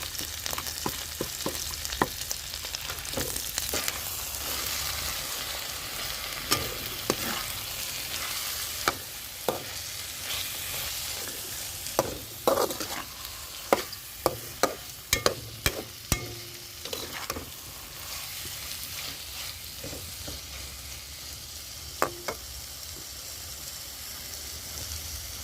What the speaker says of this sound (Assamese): শীতল মাছখিনি ভালকৈ ভাজি ল'ম।